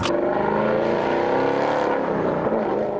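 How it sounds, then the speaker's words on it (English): Cars drive out of the Goodwood Festival of Speed, their engines a loud, continuous close-up drone that shifts in pitch as they move off, with no talk. "This is where we're going to head and watch cars leaving."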